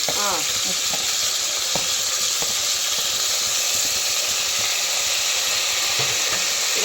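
Chopped medium-size tomatoes fry in a pan with a loud, steady, close sizzle and crackle, with occasional stirring scrapes throughout.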